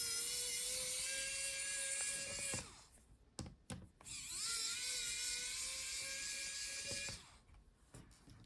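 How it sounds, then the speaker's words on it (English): A motorised screwdriver unscrews the screen hinges of a Samsung Galaxy NP754XFG laptop, giving two sustained, close, high whirring runs with a short pause and clicks between them. "So now let's unscrew the hinges."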